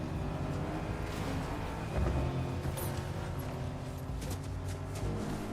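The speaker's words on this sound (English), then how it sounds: "It sounds like he found a car. Yep. Because I hear a car." Car engine in the Fortnite video game, a steady low rumble with a slight rise in the middle, running continuously amid game sounds with no talk.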